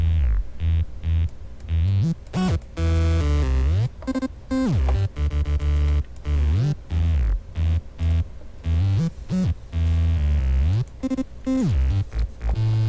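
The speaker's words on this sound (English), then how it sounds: "a bunch of weird plugins, like very strange distortion and things" Harsh, heavily distorted electronic tones from distortion plugins that stutter and cut in and out abruptly, buzzing and throbbing in a choppy, chaotic pattern.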